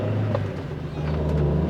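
A Rover 216i drives along with a steady low engine and road hum, then eases under light braking, with a faint tonal whine from the car's running gear.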